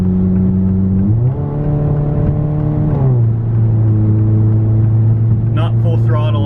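A Saab 9-3 with a new exhaust system drones loudly from close by, its engine note climbing and settling as the revs float up and hold, with a brief voice near the end.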